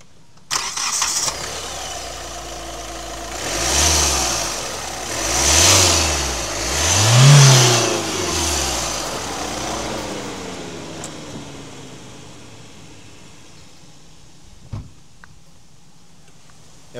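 A Hyundai Verna 1.4 CRDi diesel sedan cranks and fires up, then revs in three distinct swelling bursts before settling back to a quieter idle, heard close with a brief knock near the end.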